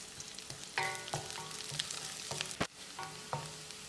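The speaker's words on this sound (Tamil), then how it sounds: "இந்த வெங்காயத்தை நல்லா பொன்னிறமாக வதக்கிடலாம்." Onions sizzle and crackle steadily in a hot pan, sautéing until golden for a tomato egg fry, with occasional clinks of a utensil stirring them; no one talks.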